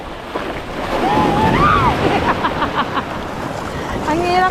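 Ocean waves wash around a small fishing boat at sea, a steady broadband rush with wind buffeting the microphone, while people talk and call out over it throughout.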